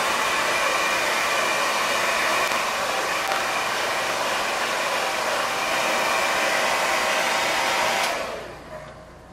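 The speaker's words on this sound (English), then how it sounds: "Hairspray, hair dryer. Have it on low here so you don't mess up the hair." A hair dryer on its low setting, used with hairspray to style a long mustache, blows a loud, steady whoosh for about eight seconds before switching off.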